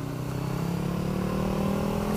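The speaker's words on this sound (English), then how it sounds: "You could hear the burble right now" A car's exhaust burbles on a race track during a track day, a steady, close, low rumbling drone with a faint rapid pulsing texture and no talk.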